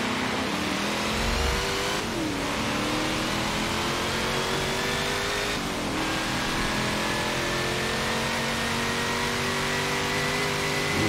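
A video game car engine steadily accelerates through rising gear pulls, loud and continuous with brief dips at shifts, no talking over it.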